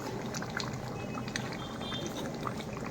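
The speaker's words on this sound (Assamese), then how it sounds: "এই মাছটো পূৰা উতলি আছে, পূৰা উতলিব দিছে।" Local rohu and mrigal fish curry with potatoes and tomatoes bubbling hard in a pot, a steady close simmering burble with dense liquid gurgles and occasional pops, no talk.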